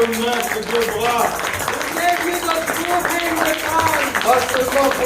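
A church congregation applauds in time during worship, with steady clapping continuing under a voice that speaks and sings over it for the whole stretch.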